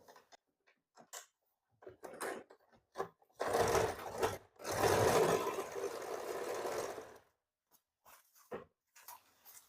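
An electric sewing machine stitches a baby frock, running in two steady bursts of a few seconds each with a short pause between, preceded and followed by scattered clicks and handling taps of the fabric and machine.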